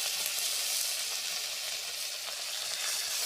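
Tomatoes and a ground paste fry in hot oil for a fish-head tel jhal, a dense, even sizzle heard up close with light stirring and no talking.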